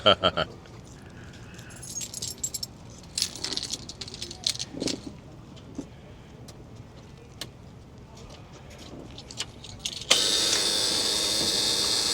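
Keys jangle from a pocket beside a 1982 Ford LTL 9000 truck, a series of light metallic clinks and rattles scattered over several seconds, close by, followed by a steady hiss of background noise.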